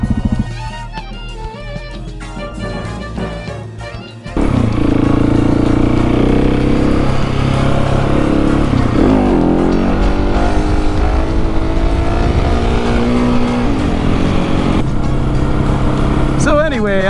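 Supermoto motorcycle on Pirelli Scorpion Rally STR front and Scorpion Rally rear tires, engine droning loud and steady on the road with shifting pitch as it accelerates, under heavy wind rush.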